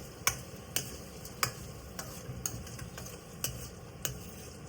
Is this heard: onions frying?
yes